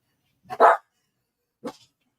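A dog barks twice indoors, a loud close bark followed a second later by a shorter, quieter one, with no talking.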